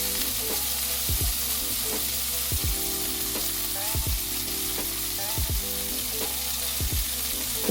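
Steady, continuous sizzling of tofu frying in hot olive oil in a pot, with occasional scraping and stirring sounds breaking through; no talking.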